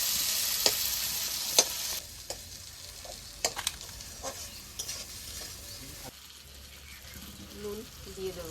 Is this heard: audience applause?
no